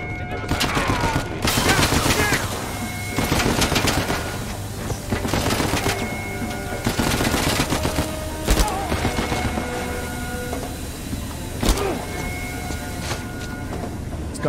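Gunfire from the video game Uncharted: repeated bursts of automatic fire and single shots spread across the clip, loud and close, with game dialogue and other voices heard between the volleys.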